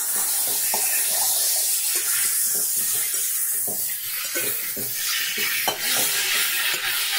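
Ginger garlic paste and vegetables sautéing in a pan over medium flame, a steady close sizzle with intermittent scraping and stirring taps of a spoon against the pan.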